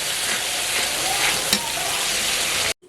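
Rupchanda fish curry with soybean, mixed vegetables and onion-tomato paste being stirred in a pan, a loud, continuous sizzle with one metallic clink midway before it cuts off abruptly.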